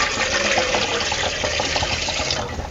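Water poured from a jug into an aluminium idli steamer pot set on the stove, a steady close splashing gush that runs unbroken for a few seconds with no talk.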